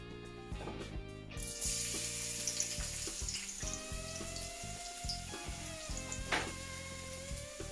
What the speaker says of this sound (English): I've put the coconut oil in the pan, and it's getting hot. I'll be adding my 4 cloves of garlic to the pan.